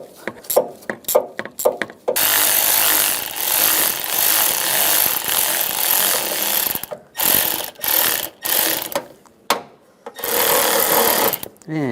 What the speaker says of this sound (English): Tighten down the worm clamp.